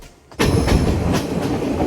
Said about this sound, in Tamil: அந்த ரயில் சத்தம்